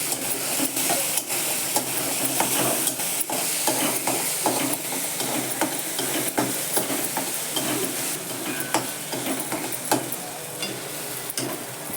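Chopped vegetable being stirred into lentils sautéed in oil with onion in a pan, a low sizzle under repeated sharp scraping and clinking of a spoon against the pan, close and continuous.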